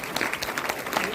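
Audience clapping at a motivational business meeting, a dense steady patter of many hands that stays fairly loud and even across the whole short burst, with no pause.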